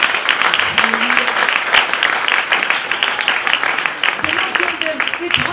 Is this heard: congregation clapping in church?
yes